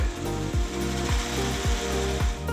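Close, loud whirring of a mixer grinder with a steady rhythm of thumping knocks as sorghum is ground into a smooth batter with a little water.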